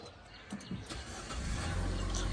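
A 2016 Nissan X-Trail with a 2000 cc engine starts by push button inside the cabin, the engine catching and settling into a steady low rumble that builds over a couple of seconds.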